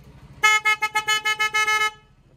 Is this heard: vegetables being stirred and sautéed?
no